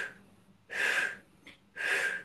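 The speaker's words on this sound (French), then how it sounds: "C'est des respirations courtes." Short, forceful exhaled breaths during a chair Pilates exercise: two long blowing exhales with a quick puff between them, close and breathy, with no talking.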